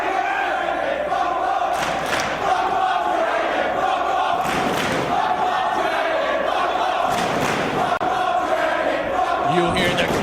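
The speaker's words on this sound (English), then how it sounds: "You hear the crowd firmly behind Bryan Danielson in this one." Wrestling arena crowd cheering for Bryan Danielson during a bout with CM Punk, a loud, sustained roar with rhythmic swells of chanting and shouts filling the hall.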